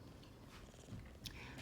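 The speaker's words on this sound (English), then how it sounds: "She's purring." A pet cat named Matilda purring steadily and close while being petted and lying belly-up, a continuous low rumble with no talk over it.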